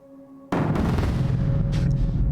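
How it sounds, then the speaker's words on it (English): Heavy explosions from the Cataclysm: Dark Days Ahead game: after a quiet start, a loud, sustained low rumbling burst of blast noise sets in and rolls on continuously, with no talk over it. "We just keep on hearing huge explosions for some reason."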